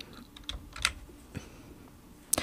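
Quiet keystrokes on a computer keyboard, a handful of separate taps and clicks spaced unevenly, heard close and alone in a still room.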